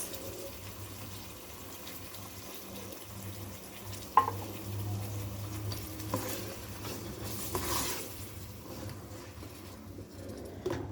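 Sardines fry in a pan with onion, garlic and tomato, a low, soft sizzle with occasional stirring clinks and scrapes close by.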